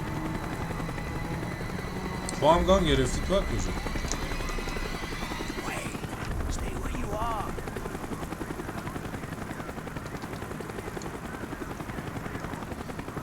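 A helicopter in the Call of Duty Black Ops video game throbs steadily throughout, with a brief burst of gunfire near the start and a voice speaking over it.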